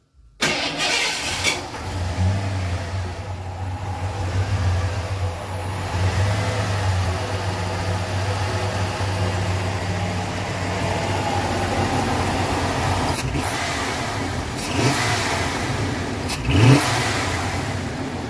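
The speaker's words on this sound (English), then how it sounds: "I just want to crank this thing and see if it runs any better." A fuel-injected Ford F-150 engine cranks briefly, catches and starts, then settles into a loud, close, steady idle with a few revs near the end.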